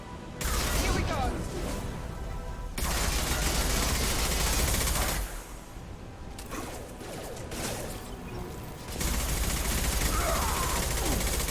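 Sustained automatic gunfire from a Mass Effect 2 firefight, dense rattling bursts running in long stretches with brief lulls, loud and close throughout.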